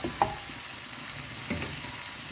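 A squid curry base with ginger and garlic sautés in a pan, giving a steady close sizzle with a couple of brief spatula scrapes, no voices.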